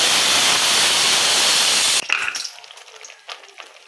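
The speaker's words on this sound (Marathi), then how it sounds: "आपण हा मसाला जो आहे ना तो तेल सुटेपर्यंत फ्राय करून घ्यायचा आहे चांगला" Turmeric and chilli masala spice paste hits hot oil in a pan, giving a loud, steady sizzling hiss for two seconds that then drops abruptly to faint crackles and light clatter.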